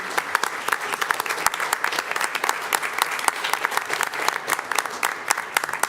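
An audience at a school board meeting claps in a lively, steady round, many hands close and loud with distinct sharp slaps throughout.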